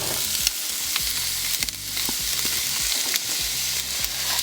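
Garlic and onion sizzle steadily in hot oil, with repeated rhythmic scrapes of a spoon stirring against the pan, close and continuous with no talking.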